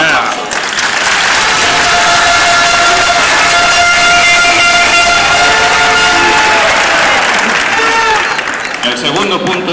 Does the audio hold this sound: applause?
yes